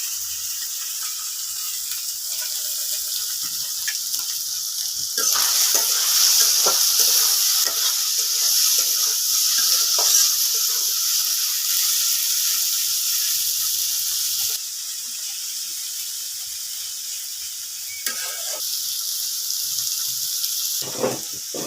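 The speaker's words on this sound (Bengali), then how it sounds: "আগে ঠান্ডা মাছ ভাজি করে নিব" Fish sizzles steadily in a hot pan in a home kitchen, a continuous frying hiss with occasional stirring scrapes and crackles, close and moderately loud with no talking.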